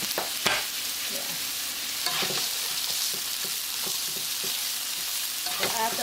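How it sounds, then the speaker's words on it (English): Onion and garlic stir-frying in a pan for curry fried rice, a steady bright sizzle with repeated scraping and stirring clatters of the utensil throughout, close and continuous with no talking. "Let it stir fry."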